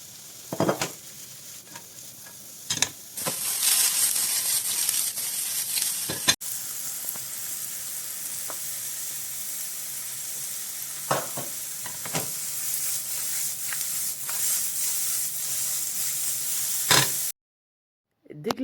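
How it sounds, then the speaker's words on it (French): Mushrooms sizzle steadily in hot fat in a pan over high heat, a loud continuous crackling hiss with occasional utensil scrapes and clicks, then a sudden cut to silence at the end. "Remets une poêle à chauffer à feu vif avec de la graisse, puis commence par griller les champignons"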